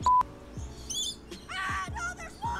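A bird gives several short, bright chirps in quick bursts, close and clear, with sharp knocks and thumps between the calls.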